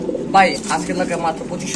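Silver Sirazi pigeons coo up close in a pigeon farm loft, a few soft throaty rolling calls in quick succession.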